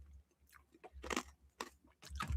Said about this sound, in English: As I crunched my cough drop.